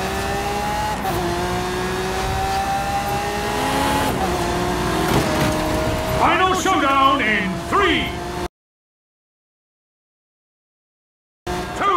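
A Lamborghini Centenario in a racing video game revs and accelerates loudly, with rising engine pitch sweeps and tire squeal, then drops into a few seconds of silence before resuming; a voice talks over the engine sound.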